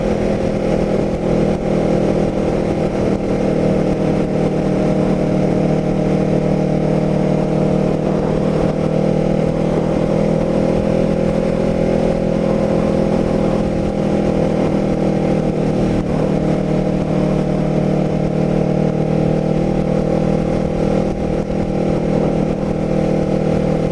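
A car cruising along Beach Drive in Cape May on a December day, with a steady, loud engine and road drone holding evenly throughout and no speech.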